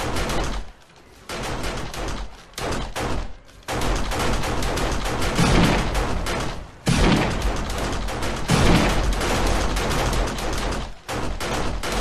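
Automated base-defense turrets blaze away in the survival game 7 Days to Die, loud rapid continuous gunfire in long bursts separated by brief pauses.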